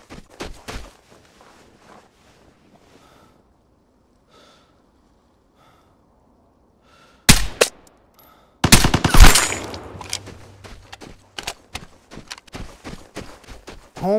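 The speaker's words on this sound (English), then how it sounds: "homeboy was aiming at the sky and shooting" Gunfire in the video game Vigor, a character firing into the sky: a few quiet clicks and steps, then a sharp shot, then a burst of rapid loud shots trailing into scattered further shots and clatter.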